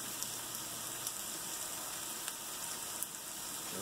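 Gluten-free spaetzle fries in butter in a pan, a continuous dense crackling sizzle with faint scattered pops throughout.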